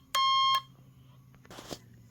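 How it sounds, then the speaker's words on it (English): An AliExpress cable tracker toner sounds its continuous tone, a short steady electronic beep of about half a second, loud and close, followed by faint handling noise. "When it's in this bottom position closer to the battery, that's the continuous tone, and it sounds like this."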